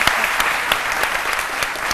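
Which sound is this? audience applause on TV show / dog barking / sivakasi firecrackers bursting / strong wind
audience applause on TV show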